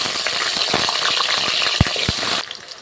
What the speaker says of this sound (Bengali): তেলটা তো গরম হয়ে গেছে সেই তেলের মধ্যে আমি দিয়ে দিচ্ছি আলুটা কেটে রেখেছিলাম